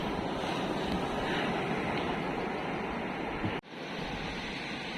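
Surf rolling onto Kakinada beach at sunrise, a steady, broad roar of waves mixed with wind buffeting the microphone, continuous and close, with a brief dropout near the end.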